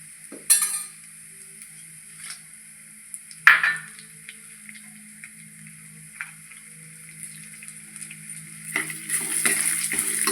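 Dried red chillies and curry leaves sizzle in hot oil over browned ginger-garlic paste for a chicken thoran, a low steady hiss broken by a few sharp clinks of a spoon stirring the pan.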